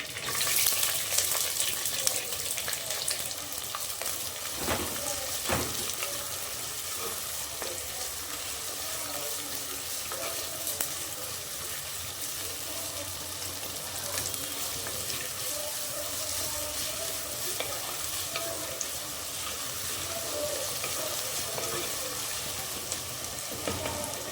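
Chopped big onions go into hot oil with dried red chillies and curry leaves for a Kerala-style coconut beef fry, making a continuous, even hiss of frying that runs unbroken without speech.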